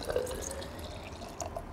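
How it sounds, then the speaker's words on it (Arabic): Water poured into an open child's sippy cup, a short faint splashing and dripping trickle close by with a few light drops, no voices. "لو جبنا كوباية وفتحنا الكوباية بالشكل ده وحطينا في الكوباية دي مية"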